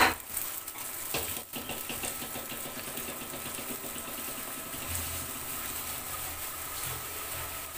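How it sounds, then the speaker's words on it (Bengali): Two eggs seasoned only with salt fry in hot oil on a stove, giving a continuous close sizzle and crackle with faint stirring taps, and no voices. "এই যে 2টা ডিম হচ্ছে শুধু লবণ দিয়ে ডিমটাকে ভেজে নিব।"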